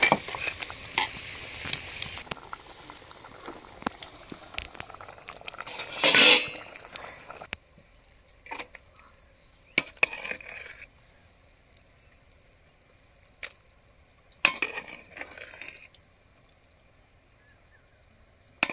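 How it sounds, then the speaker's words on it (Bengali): Flat beans fry in a pan at a home kitchen, giving a steady low sizzle with occasional stirring scrapes and clinks of utensil on metal, quiet overall with a few sharper bursts. "সাথে একটু সিম ভাজাও করব।"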